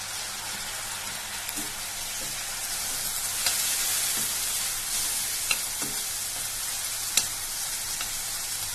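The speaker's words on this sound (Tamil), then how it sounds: "இப்போ நான் சோயா சாஸ் கொஞ்சம் சேர்த்துக்கிறேன்." Vegetables sauté in a pan over a low flame as soy sauce goes in for a Gobi Manchurian, giving a steady, dense sizzle with occasional soft clicks of stirring and no talking.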